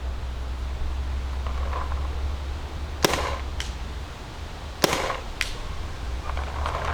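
A Dye DLS paintball marker fires two spaced shots, each a sharp, fairly quiet crack over steady low background hum, with fainter pops near the end.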